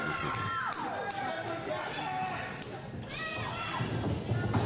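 Crowd cheering and shouting at an independent wrestling match, a lively arena roar with whoops and scattered thuds, running under commentators talking.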